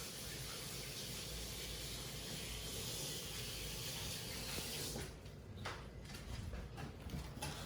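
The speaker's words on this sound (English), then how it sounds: "I'm gonna just wash my hands again after touching those packages before I cut up the onions." A kitchen faucet runs in a steady soft hiss as hands are washed, the flow breaking into uneven splashes near the end, faint and close.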